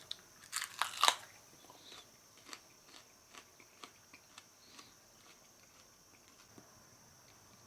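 Crunchy bites into a ripe Chay pepper, a sweet Capsicum annuum pod, begin with a few sharp snaps close up, then settle into softer, steady chewing that fades gradually over several seconds.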